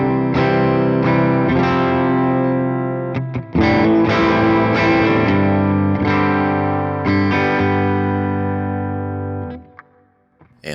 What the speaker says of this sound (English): here's the clean tone pickup selector in the middle.